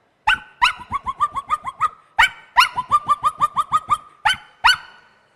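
A mimic's voice imitates a small Pomeranian dog, giving rapid high yappy barks in two bursts with a single sharp yap between them, close and loud with no other talk.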